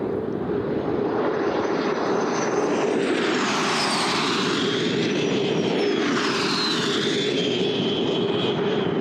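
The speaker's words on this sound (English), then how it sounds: "The Checkmate L-39s, and in this case, the Canadair-made T-33 in their echelon formation this time." Checkmate L-39 jets and a Canadair-built T-33 pass in echelon formation at the 2022 Selfridge air show, a loud, steady jet roar with a rising and falling whine as they sweep overhead, no talk.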